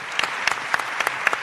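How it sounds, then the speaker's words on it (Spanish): An audience at a panel discussion on school writing applauding, a short burst of scattered handclaps at moderate volume with individual claps standing out in an uneven rhythm. "fuerte el aplauso para una mesa de lujo"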